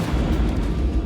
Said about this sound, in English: Big noise, big explosion.